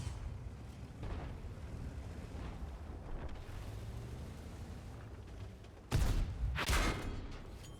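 Artillery shell blasts in World of Tanks land over a dense rumbling battle bed, with two sharp, loud impacts arriving close together near the end.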